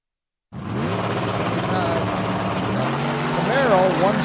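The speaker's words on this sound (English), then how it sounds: "In the burnout box, we got Riom Racing's Corvette Roadster." A Corvette Roadster doing a burnout in the burnout box at a drag strip, its engine starting abruptly and holding a loud, steady roar with a rising squeal of tires near the end.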